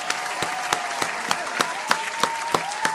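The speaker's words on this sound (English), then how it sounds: "Round of applause." Applause rolls on at a moderate level, punctuated by sharp, evenly spaced hits roughly three times a second, while a faint sustained tone hums underneath.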